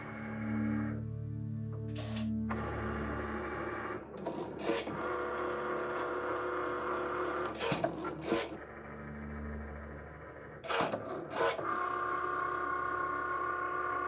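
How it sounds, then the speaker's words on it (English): A Cricut cutting machine runs its scoring wheel across envelope paper, giving a steady close mechanical rasp and whir with repeated carriage passes and brief louder strokes throughout. "all this is going to do is score this box right here so that we can make these folds crisp and clean."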